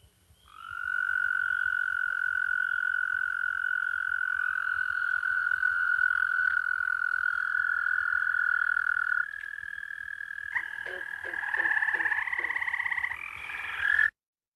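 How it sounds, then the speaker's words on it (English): Sustained musical trills of American toads, several overlapping calls holding steady and loud for many seconds, joined near the end by more voices of other Minnesota frogs and toads calling at once. "the American toad, which a lot of people have probably also heard, but maybe didn't know what it was. And they just do a sustained musical trill"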